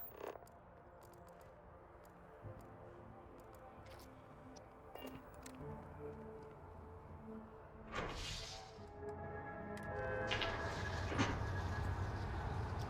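A New Atlantis Transit tram in Starfield pulls in, a low mechanical rumble and hiss building over quiet city ambience, then a louder sustained wash of rolling and braking noise toward the end.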